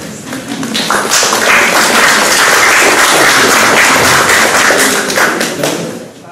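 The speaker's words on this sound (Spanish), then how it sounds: "Los aplausos por ahí, por favor" Loud, sustained applause from an audience at a scientific talk on chikungunya fever, dense clapping that swells, holds steady for several seconds, then begins to taper off.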